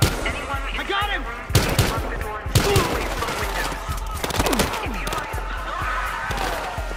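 Gunfire in the video game Battlefield Hardline: loud bursts of automatic fire and single shots crack repeatedly through the clip, with a near, dense fusillade and game voices talking underneath.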